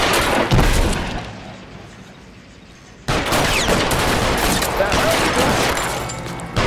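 Guns fire in a chaotic shootout in the video game L.A. Noire: loud, dense bursts of rapid shots and booms, with a quieter lull before the firing swells again sharply.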